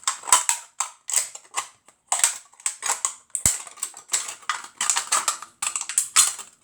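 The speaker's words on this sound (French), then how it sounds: "puis après on prend un gros ciseau." Big scissors work through a recycled aluminium drink can in a steady series of crisp, close metallic snips and crackles, one quick cut after another.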